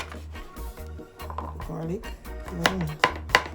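A knife chops garlic on a cutting board in a home kitchen while pork is being cooked, giving a steady run of soft thuds that sharpen into crisper taps near the end, with a voice talking throughout.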